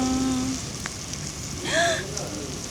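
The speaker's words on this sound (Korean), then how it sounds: "헉, 고기 굽는 소리 맞아요?" Korean hanwoo beef, top-grade cuts, sizzling on a restaurant grill with a dense, steady rain-like crackle throughout, while people talk briefly over it.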